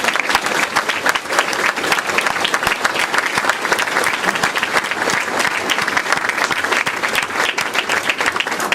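Sustained applause from a large audience at a retirement ceremony, a dense, even wash of clapping that holds steady throughout.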